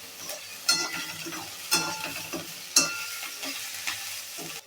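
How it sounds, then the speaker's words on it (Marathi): Green chili pieces stir-roasting in a pan for a Maharashtrian chili pickle-style dish, with a steady close sizzle and several sharp scraping strokes of a spatula turning the pieces at roughly one-second intervals. "इथे आपल्याला असे अल्टीपल्टी करून एकदम खमंग डागडाग येईपर्यंत भाजवून घ्यायचे आहेत"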